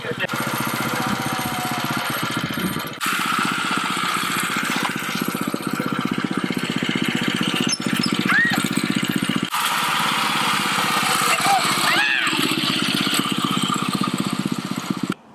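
A Baja mini bike with a bypassed governor and a new carburetor runs loud and steady, its small engine buzzing throughout with brief throttle changes near three and ten seconds.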